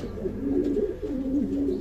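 Racing pigeons coo softly and continuously nearby, their low warbling calls overlapping in a steady murmur.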